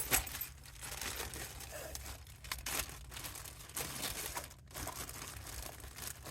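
Hands rummage through a bag of stuff, with continuous close, faint crinkling and rustling of plastic and occasional crunches, and no voices.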